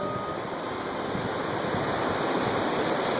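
A steady, loud roar of rushing surf fills the clip, a constant broadband wash of water with no pauses.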